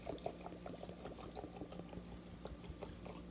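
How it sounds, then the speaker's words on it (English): Liquid poured over peach leaves in a jar to make an herbal tincture, a quiet continuous trickle and splash lasting a few seconds with no talking. "I'm going to make sure that I pour it so that it covers the herb completely"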